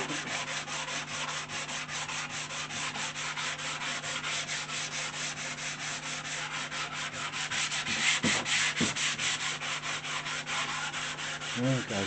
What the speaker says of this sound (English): in the meantime we'll give it a finish with hand sand